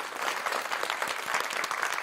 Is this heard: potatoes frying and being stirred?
no